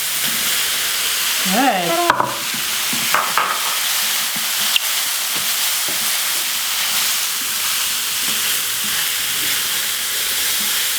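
Tomatoes sizzle in a pan for a chickpea vegan omelette, a steady close frying hiss throughout with a few stirring clinks and a brief spoken word early on.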